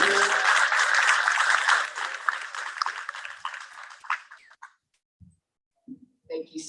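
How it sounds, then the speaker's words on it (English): An audience applauds after a live performance at a social justice panel event. The applause is dense and sustained for about four seconds, then thins and fades, with a few scattered sounds and voices afterward. "I'll give another round of applause."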